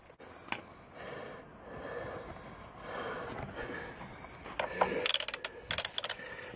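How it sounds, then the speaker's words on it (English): A ratchet wrench clicks through a run of quick, uneven strokes while removing a nut from the fork of a Suzuki GS500 motorcycle, growing louder and sharper toward the end of the sequence. "Off comes the nut."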